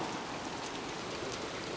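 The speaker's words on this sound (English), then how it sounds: "There goes the rain." Steady rain pouring down, a dense continuous hiss of drops with no pauses.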